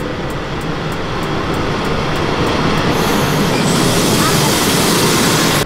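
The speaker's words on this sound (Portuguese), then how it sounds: "Então, galerinha, tá chegando nosso trem pra Roma!" A passenger train bound for Rome rolls in with a loud, steady rumble of railcars and wheels, the noise swelling slightly as it draws closer and filling the whole stretch without pause.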